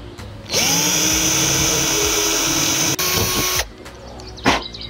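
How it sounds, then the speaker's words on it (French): A power drill bores a pilot hole in the middle while a Preston Innovations Pulla Bush C-drome fishing pole roller is assembled, one steady loud whine of about three seconds that briefly dips, then stops, followed by light handling knocks. "je vais venir percer au milieu"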